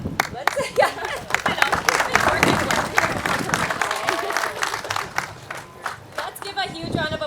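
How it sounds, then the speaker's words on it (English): Applause from an audience at an open house event, a lively burst of many hands clapping close by, sustained and dense, with some crowd chatter mixed in. "let's give a huge round of applause for Linda Brown for the incredible music"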